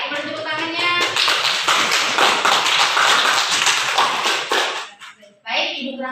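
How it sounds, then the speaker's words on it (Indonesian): A classroom of pupils claps hands together in a dense, steady burst for a few seconds, then the applause breaks off and children's voices follow. "Baik, boleh tepuk tangannya."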